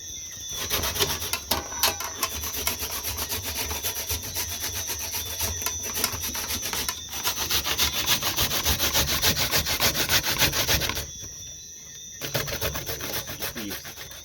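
Coconut grated by hand in a Jamaican kitchen for rice and peas, a loud, close, continuous rhythmic rasping scrape that runs steadily, pauses briefly near the end, then resumes, with no talking.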